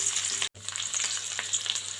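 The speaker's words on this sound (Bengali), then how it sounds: "এখন আমি এইগুলোকে 1 মিনিট ভেজে নেব।" Chopped garlic and ginger frying in a pan, a close, steady crackling sizzle with dense small pops, broken by one very brief silent gap.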